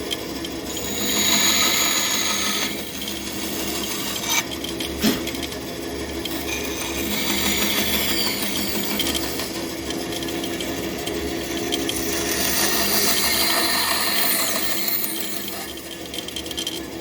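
A saw makes relief cuts in wood while shaping a marking gauge. The strokes are steady and raspy at a modest level, carry on for several seconds, and no one speaks.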